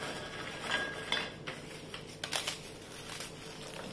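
Biscuit cake mixture with petit beurre biscuits being stirred in a bowl, producing close clinks, scrapes and crinkly rustling in irregular bursts over a low steady background.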